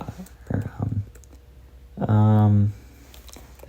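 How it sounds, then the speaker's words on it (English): Computer keyboard typing, with a few quick bursts of clicking keys, then a loud brief tonal hum partway through, all fairly close. "I'm just gonna type in space"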